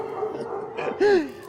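A dog in a small town setting gives a single short bark with a whimpering yip, close and fairly loud, amid light background noise.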